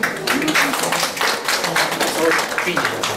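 Audience at a city hall ceremony clapping for a 75-year-old honoree, brisk dense applause running throughout with voices mixed in.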